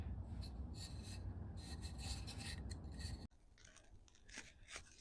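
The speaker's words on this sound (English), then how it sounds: "I've sanded it down to 220" Wood is sanded by hand with 220-grit sandpaper, a close, rhythmic rasping of short back-and-forth strokes that cuts off abruptly and resumes more softly.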